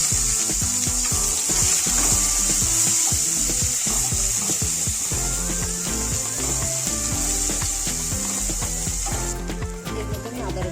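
Whole cumin, black cumin and chopped onion fry in hot oil for a papaya bhujia, giving a loud, steady, close sizzle throughout, with light stirring and clattering on top.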